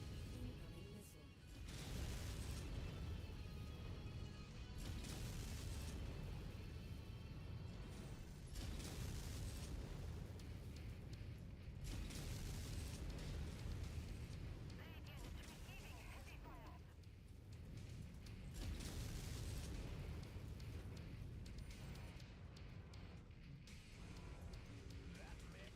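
Missile explosions in a robot video game, repeated booms and crashes spread across a long stretch of constant mechanical game noise, with a radio-style voice calling out targets at times.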